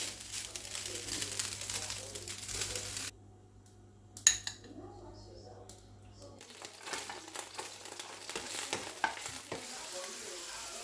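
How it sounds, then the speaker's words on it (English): Rice for party fried rice fries in a pot with a patchy sizzle and scraping stirs, cutting out abruptly for a few seconds of near silence and a couple of knocks before the frying resumes. "So that's how you fry it. You fry it. You fry it. Batch by batch."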